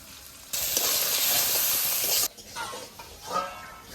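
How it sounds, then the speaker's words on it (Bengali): Onion and tomatoes hit hot oil in a pan for a silver carp fish curry, giving a loud, close burst of sizzling that lasts about two seconds, then settles into softer crackling and frying. "পেঁয়াজটা একটু ভাজা ভাজা হয়ে আসছে, এবার টমেটোগুলো দিয়ে দেবো।"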